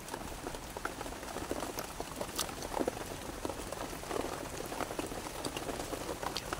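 Steady rain falls outdoors, a soft continuous patter of drops with scattered louder splashes, fairly faint and unbroken, with no talking.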